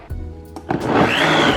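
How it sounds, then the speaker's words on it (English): A blender whirs to life after a few clicks, quickly rising to a loud, steady high-pitched spin while blending a curry mixture with chicken broth. "Got our blender,"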